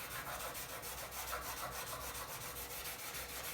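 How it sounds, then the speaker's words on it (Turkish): Steady, even rasping of fine sandpaper rubbed back and forth across a Damascus steel knife blade, close and continuous with a regular rhythm. "incecik bir zımpara yapıyoruz"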